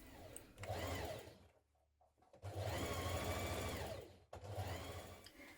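A sewing machine stitches a shirt placket in three quick runs of rapid, whirring needle strokes with brief pauses between them, close but fairly soft.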